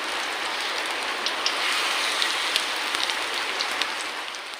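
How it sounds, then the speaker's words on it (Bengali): Moringa leaf fritters sizzle in hot oil in a kadai, a steady dense crackle with scattered sharper pops, close and fairly loud, with no talking. "এবারে গরম তেলের মধ্যে বড়াগুলো দিয়ে ভেজে নেব।"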